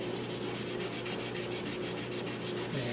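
Steady, fine abrasive rubbing of 320-grit sandpaper on the outside of a walnut bowl in quick, even back-and-forth strokes, close by and continuous.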